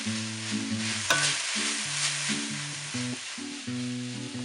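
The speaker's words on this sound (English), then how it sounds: "now that the seitan is browning" Pieces of seitan sizzle and brown in a hot pan over medium-high heat while being stirred continually, a close steady frying hiss with scraping under rhythmic background music.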